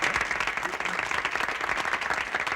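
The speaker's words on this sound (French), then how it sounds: "On va l'applaudir, votre vicaire." An audience at a Soirée Canadienne in Drummondville applauds the vicar, a full room of steady, moderately loud clapping with a few voices faintly mixed in.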